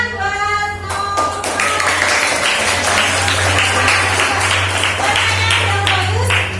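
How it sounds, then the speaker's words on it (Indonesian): Students in a classroom clap for a classmate in a steady, busy patter of hands that lasts several seconds, with voices speaking over it and a low hum underneath. "Tepuk tangan buat Noah."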